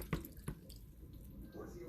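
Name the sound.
draining soaked sea moss, water dripping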